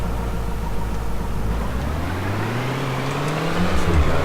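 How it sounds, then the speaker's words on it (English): A vehicle spawns in the video game Defiance and drives off with a steady, loud engine drone, its pitch climbing smoothly as it accelerates away. "So pressing V, I'm going to spawn my vehicle."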